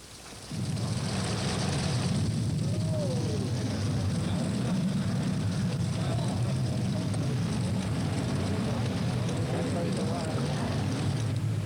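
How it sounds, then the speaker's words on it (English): A Boeing 720 airliner in its final moments before crashing gives off a continuous broad roar of engines and rushing air, steady and fairly loud throughout, with muffled speech-like sounds underneath. "In the last moments of the Boeing 720"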